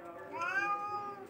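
A cat gives a single drawn-out meow lasting over a second, close and clear with a rising then falling pitch, over faint background noise and no speech.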